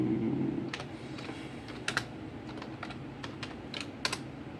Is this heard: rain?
no